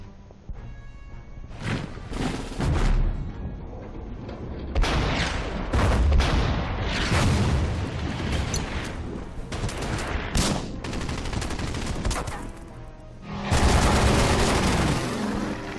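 Strafing-run gunfire pounds bunkers in the Order of Battle wargame, with dense bursts of machine-gun fire and booming impacts rolling on almost continuously, loud and close, and a fresh heavy volley near the end.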